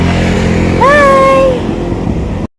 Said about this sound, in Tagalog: Ang cute ng pusa.